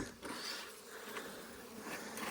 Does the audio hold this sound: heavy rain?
no